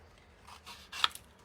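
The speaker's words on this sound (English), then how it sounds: "So when I'm cutting, I always like to leave a little bit of a white border" Scissors snip through a stamped paper image, giving a few soft, brief cuts and rustles close by in a quiet room.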